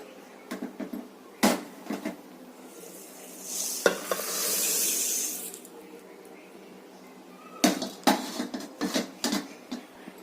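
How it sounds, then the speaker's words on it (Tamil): Ingredients being stirred and dry-roasted in a pan, with sharp scraping knocks of a spoon at both ends and a soft hiss swelling in the middle, fairly close and alone. "ரொம்ப வறுக்க தேவையில்லை, கொஞ்சம் 2 வட்டம் போட்டு வறுத்துக்கிறோம்."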